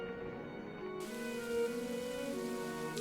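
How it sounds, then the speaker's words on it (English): Rain drenches a convent stable yard in the video game Pendragon, a steady wash of falling rain heard alongside a sustained tonal music bed throughout. "The stable's yard is drenched in rain."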